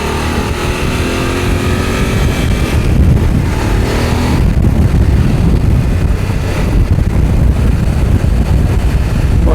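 A Voge DS900 X motorcycle rides in sport mode, its engine roar mixed with heavy wind buffeting across the microphone, loud and steady throughout with no voices.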